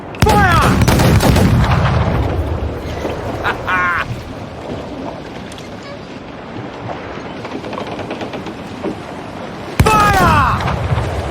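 Ship cannons fire in Assassin's Creed IV Black Flag: a heavy boom opens, rumbling over churning sea and wind, and a second loud blast strikes near the end.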